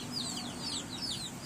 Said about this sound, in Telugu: ఇవి కోడి పిల్లలు